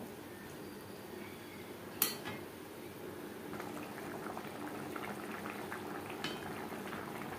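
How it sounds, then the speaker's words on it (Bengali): Shol fish curry gravy with gourd stems bubbling steadily in a pot, a soft continuous simmer with a sharp utensil clink near the start and faint kitchen knocks later. "গ্রেভি বেশ ভালো করে ফুটিয়ে নেব"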